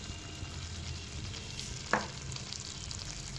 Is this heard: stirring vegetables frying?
yes